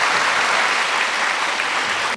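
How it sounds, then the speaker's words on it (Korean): A lecture audience at Yonsei University gives a 2004 special lecture a loud, dense round of applause that holds steady for two seconds and then cuts off abruptly. "박수."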